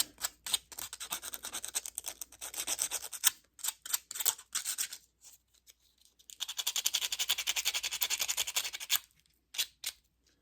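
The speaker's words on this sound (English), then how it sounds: "I got me just a little piece of sandpaper there. Gonna rough that edge up a little bit." A small piece of sandpaper rasps rapidly against the edge of a small metal repair bracket for a model aircraft wing. Close, quick scratching strokes come in irregular bursts, with a steadier stretch of continuous rubbing in the middle.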